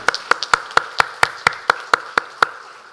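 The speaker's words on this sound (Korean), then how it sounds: "함께 하나님께 영광의 박수 올려드리겠습니다." A church congregation at a Sunday worship service claps in unison: about eleven crisp, evenly spaced claps in a steady rhythm, close and clear, with no talking over them.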